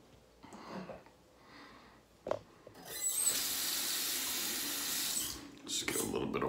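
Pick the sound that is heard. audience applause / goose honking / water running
water running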